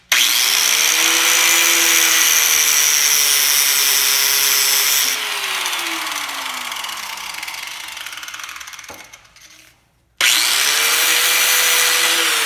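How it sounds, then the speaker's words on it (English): A cutoff wheel slices through taped stainless steel with a loud, steady high whine that sags and winds down partway, cuts out, then spins back up at full pitch. "And I'm just gonna use, you know, a cutoff wheel."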